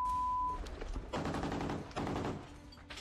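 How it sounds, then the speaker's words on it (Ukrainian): Two heavy bursts of gunfire, each lasting about a second, loud and close, with a brief tone at the start and rumbling noise between. "Постріл!"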